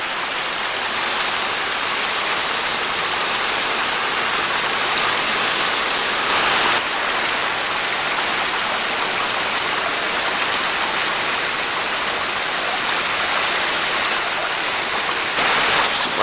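A stream near Kilgore Falls in Rocks State Park gives a steady, broad rush of flowing water that holds an even level throughout with no voices.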